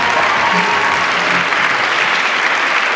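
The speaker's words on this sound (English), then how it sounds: "Let's give her a round of applause." Audience applause at a Supanova Perth 2015 cosplay contest, a loud, dense, steady wash of clapping that fills the whole stretch without breaks.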